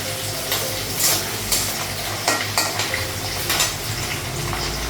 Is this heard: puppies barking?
no